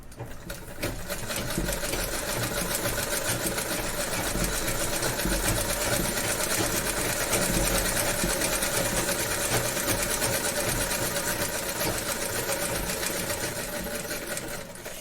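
A sewing machine stitching through a single fold of cloth runs steadily and loudly for the whole stretch, a fast continuous mechanical whir and rattle, close up with no talking.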